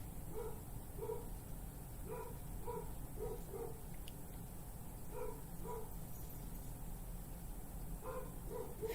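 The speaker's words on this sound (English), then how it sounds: "my dogs are barking in the background" Several dogs bark in the background at a home, short muffled woofs and yips coming in irregular clusters, faint and somewhat distant under a steady hum, with no talk.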